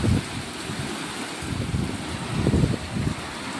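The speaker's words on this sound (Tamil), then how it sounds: "நல்ல மழை காற்றோடு வருது." Heavy rain lashes down outdoors as strong wind roars in gusts, a dense, loud hiss over low buffeting rumbles that swell and ease, with no voices.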